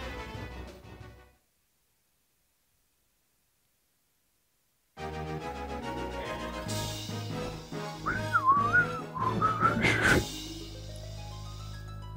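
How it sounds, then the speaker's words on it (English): A person tries to whistle and is cut off by a yawn, giving a brief, wavering, breathy whistle over steady background music, quiet overall, after a stretch of silence. "I was trying to whistle, but I couldn't, because a yawn got in the way."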